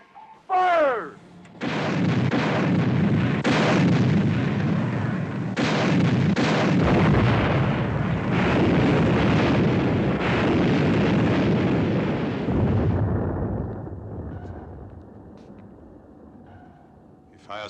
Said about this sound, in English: Mr. Ware, set depth charges to 100.